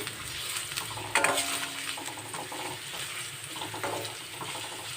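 Chopped onions frying in oil in a kadai while being stirred for masala noodles, giving a continuous close sizzle with spatula scrapes and one louder knock.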